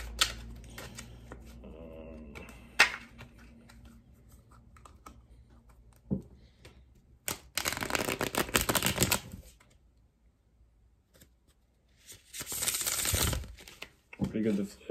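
Anne Stokes Legends tarot cards being shuffled by hand in two dense riffling bursts, close and crisp, after quieter tapping and handling sounds; someone speaks briefly early on.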